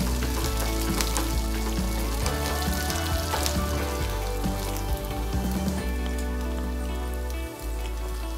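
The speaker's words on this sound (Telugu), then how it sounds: "ఉల్లిపాయలు బాగా వేగిపోయాయి ఇప్పుడు ఒక 10 పచ్చిమిర్చి" Onions and green chillies fry steadily in a pan for a spicy tomato chutney, a dense continuous sizzle with crackling pops running throughout, fairly close and without talk.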